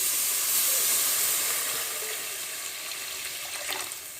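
Water poured into a pan of stingray curry gives a steady, close hissing rush that slowly eases off, with no talking.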